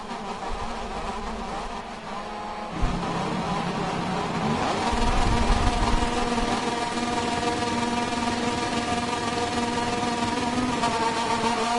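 Moto2 racing motorcycles on the grid at the Portimao circuit in rain, a dense sustained engine drone with revving that swells and rises in pitch, loud and continuous with no talk.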